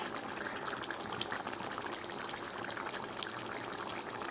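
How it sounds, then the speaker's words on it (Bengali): Kewra water poured into a pot of chicken chaap, a steady close liquid pouring and trickling sound running throughout with no talk. "আর ইয়েটা কেওড়া জলটা।"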